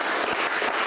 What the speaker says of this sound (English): I think we should have one big round of applause for Virginia